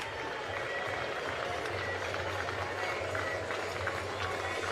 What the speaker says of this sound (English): Listen to this crowd. Standing.